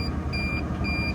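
A PistenBully snowcat's alarm beeps in a repeating electronic pattern of short high tones, two beeps in just over a second, over a low diesel engine rumble close by.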